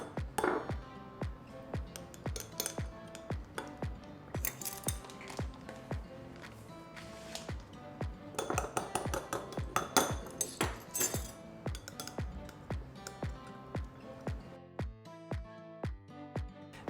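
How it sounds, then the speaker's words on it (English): A spoon clinks and scrapes against a bowl while powder such as cornstarch is stirred into an oil-soaked bath salt mixture, a fairly quiet run of rhythmic taps and rattles that speeds up midway, with no talk. "I'm gonna add this a ½ tablespoon at a time while stirring."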